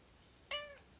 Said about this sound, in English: Here, you can see my cat.